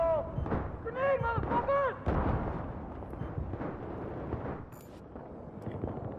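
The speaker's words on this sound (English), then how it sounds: "Grenade," A grenade blast in the Battlefield 3 first-person shooter goes off as a heavy, booming burst amid ongoing gunfire and game noise, with a player talking over the action.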